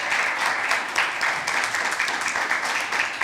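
Audience applause for a school debate team at an inter-secondary school debate, steady dense clapping from a crowd that fills the whole stretch at an even, fairly loud level with no break.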